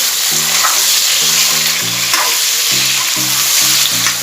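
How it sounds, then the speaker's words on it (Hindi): Potatoes and onions sizzle in a pan for a Bihari-style aubergine and potato bhujia, a steady loud frying hiss broken by repeated rhythmic scraping and tapping of a stirring spoon against the pan. "फिर आप आलू की भुनाई कर दें थोड़े से।"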